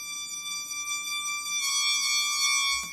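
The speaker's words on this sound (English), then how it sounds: "I guess it's just a cello from Citrus." A sampled cello holds a sustained bowed tone, steady with rich even harmonics, dry and clean with no effects, swelling slightly louder toward the end before cutting off.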